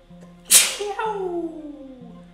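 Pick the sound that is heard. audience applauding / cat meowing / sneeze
sneeze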